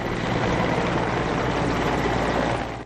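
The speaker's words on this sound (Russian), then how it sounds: "В небе появляется вертолет Ми-8." An Mi-8 helicopter flies over a fire, a loud steady broadband rotor and engine roar that fades slightly at the end, with no speech.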